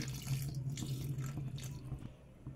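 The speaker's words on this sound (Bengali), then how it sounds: "অল্প সামান্য জল দিচ্ছি" A small amount of water poured into a pan of banana stem curry, a soft continuous splashing trickle close by against a low steady hum.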